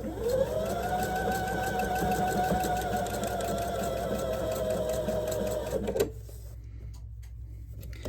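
A sewing machine stitches fabric for a heart-shaped garland, whirring at a steady fast rhythm for about six seconds before stopping, leaving quieter room sound.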